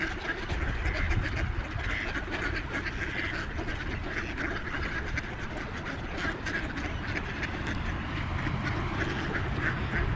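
A crowd of wild ducks feeding on seeds near a parking lot in Shakopee, Minnesota, quacks continuously and densely, loud and close, with overlapping calls across the whole stretch.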